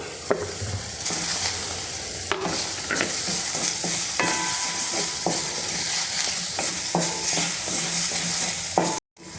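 Grated coconut with shallots and garlic dries and toasts in a pan for a soybean curry, giving a steady soft sizzle with repeated scraping strokes of a spoon, no talking, ending in a brief cut.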